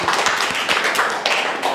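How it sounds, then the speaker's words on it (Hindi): A class of children clapping together, a dense continuous patter of many small hands for a couple of seconds, loud and close. "ताली बजा कम से कम।"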